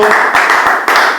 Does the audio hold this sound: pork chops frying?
no